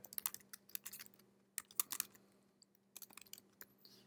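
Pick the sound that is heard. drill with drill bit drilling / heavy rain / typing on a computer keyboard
typing on a computer keyboard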